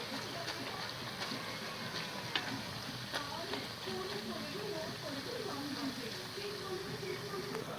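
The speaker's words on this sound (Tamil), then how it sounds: "கொஞ்சம் கொஞ்சமாக அதோட சத்தம் அடங்குது. அப்போ நம்ம இப்படி திருப்பி போட்டு திரும்ப வேக வைக்கலாம்." Raw banana slices frying in hot oil give a continuous, fairly faint sizzle with light crackles throughout.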